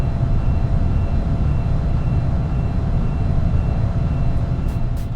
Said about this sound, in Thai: เสียงใบพัดของเครื่องบินที่ทำงานอย่างสม่ำเสมอ